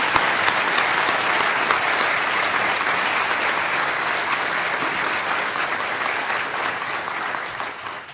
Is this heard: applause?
yes